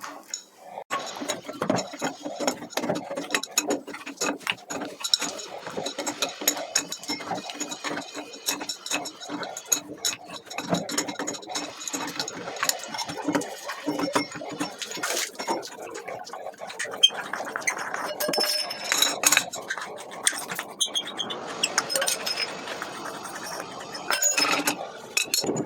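A Jaquar shower wall mixer tap is unscrewed and taken off the wall, giving a long stretch of close metallic clinks, taps and scraping handling noises at an uneven rhythm, with no talking.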